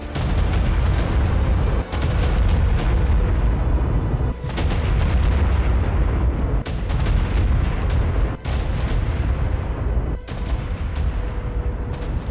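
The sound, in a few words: Chaos Bee explosions, video game ARK Primal Fear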